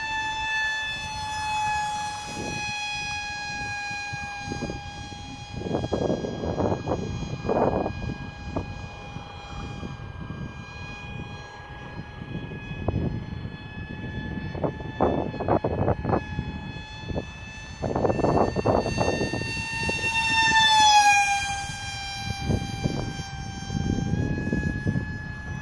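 An SU35 RC model jet by Parkflyers International, with a 2550 RC Timer electric motor on 4S and a 50A ESC, flies overhead in strong wind. Its steady high motor whine rises sharply in pitch as it passes, over bursts of wind rumble.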